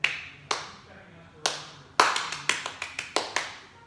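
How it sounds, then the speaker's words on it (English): Children in a martial arts class clap their hands, starting with a few scattered claps and building into a quick, irregular burst of sharp claps at moderate distance. "Give yourselves a hand."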